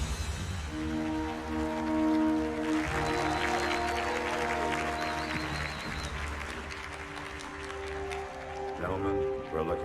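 A crowd applauds and cheers during a Halo 2 cutscene aboard Cairo Station, a busy burst in the middle of the scene that sits under sustained orchestral music, with voices talking throughout.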